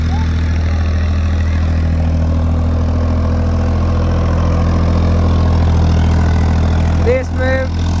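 A Powertrac Euro 55 or Sonalika tractor engine runs continuously under load while working soil in a field, a loud, close, steady low rumble, with a brief voice near the end.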